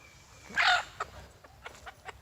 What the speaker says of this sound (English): there are some Polish chickens that are out